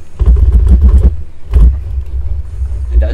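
Kart engine in Project CARS 2, a low buzzing rumble close by that rises in two revving bursts separated by a short lull, then settles to a steady drone.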